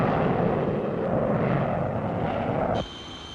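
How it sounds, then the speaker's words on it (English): An RAF Canberra jet bomber from the 1950s roars overhead in a loud, steady broadband rush that holds for under three seconds, then cuts off abruptly to a faint hiss. "And now the jet bombers of the RAF are coming along"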